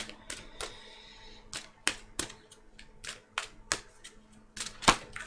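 Tarot cards shuffled and snapped close up, a series of crisp irregular clicks and flicks over a quiet background.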